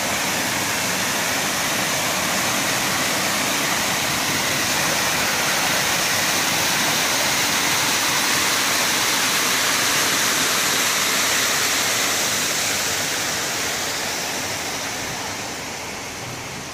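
Steady broadband rush of the Cañaveralejo river flowing, a constant dense wash of water held at even loudness for the whole stretch and tapering slightly at the end, with no voices.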